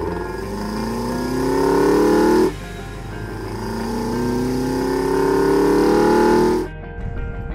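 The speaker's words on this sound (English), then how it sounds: "they'll go and put ITBs on it because you get that just utterly insane induction note" A BMW E36 engine with individual throttle bodies howls with a loud, raw induction note, rising through two strong revs, the first cut off sharply and the second dropping away to idle near the end.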